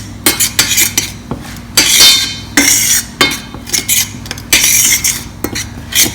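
A spoon scrapes and clinks against a metal bowl while lemon, salt and red chili powder are stirred into warm oil for sprouted fenugreek pickle, loud close bursts of clattering stirring.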